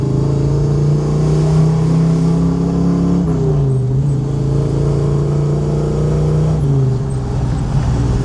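A 1969 Chevy Camaro SS with a 350 V8 idles with a loud, close, throaty burble, rising in a couple of revs and settling back down, with no talk over it.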